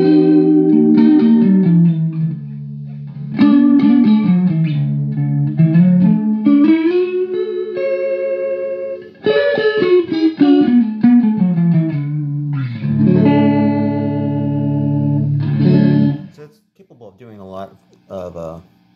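An electric guitar runs through a TC Electronic SCF Stereo Chorus Flange pedal, chords and melodic lines shimmering with a wide, swirling chorus effect, loud and upfront, then fading out into a few softer notes.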